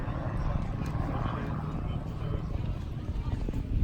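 An aerobatic airplane flying a series of aileron rolls down the runway at an airshow gives a steady, fairly loud propeller and engine drone that holds throughout with slight swells, under crowd or ambient noise.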